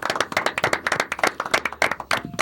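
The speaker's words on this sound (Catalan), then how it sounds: "Un fort aplaudiment." A small group claps close by in a quick, uneven burst after a football pool ranking is read out on a Catalan podcast, loud and dry with no talk over it.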